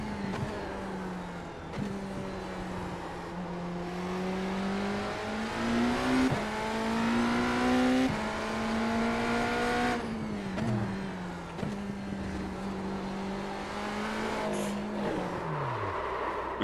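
A hypercar in a racing video game laps Daytona, its engine droning steadily with rising and falling revs through shifts, loud and continuous, ending in a quick downshift and deceleration.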